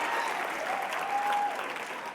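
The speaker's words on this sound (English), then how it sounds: "All right, you can clap for that." Audience applause at a 2025 remarks event, steady dense clapping filling the room at an even level for a couple of seconds with no pauses.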